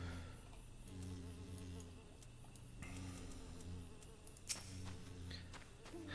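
Wasps in Final Fantasy XIV give a steady insect buzz with a droning hum that runs the whole time at a moderate level, over a constant game backdrop with a brief sharp click near the end.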